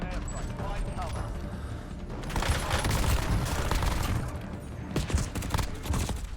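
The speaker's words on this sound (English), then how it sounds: "Enemy precision airstrike. Find cover." Explosions from a precision airstrike in Call of Duty Warzone rumble and crackle in a dense volley, swelling in the middle and scattering after, with a voice talking over the blasts.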